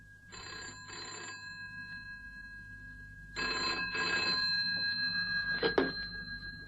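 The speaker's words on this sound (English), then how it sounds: "and then the phone rang" A telephone bell rings in two bursts, each a pair of loud close trills, with a short gap between them and a brief clatter near the end.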